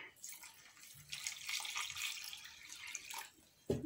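One litre of water pours into a pan holding sugar and pineapple pieces, a soft, steady splashing rush lasting several seconds, close but fairly faint, ending in a sharper knock.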